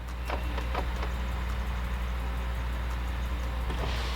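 A Chevrolet Silverado's power windows run by remote, a steady low motor whir holding throughout with a few faint clicks near the start and a brighter rise at the end.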